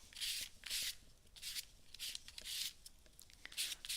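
A paint scraper drags paint across an art journal page in repeated short, close scraping strokes, several passes with brief pauses between them.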